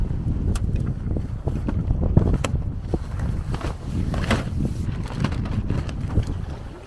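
Small sailboat on a Norwegian lake in strong wind, water rushing and splashing against the hull under steady gusty wind noise buffeting the microphone, moderately loud and continuous.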